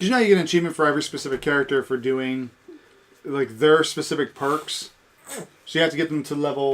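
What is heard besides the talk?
No everyday noise stands out behind the speech.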